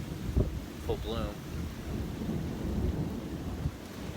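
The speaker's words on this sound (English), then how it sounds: "Took a little while for the storm to get here in full bloom." Outdoors, a thunderstorm rumbles low and continuous, with rain and wind buffeting the microphone and a brief voice-like sound near the start.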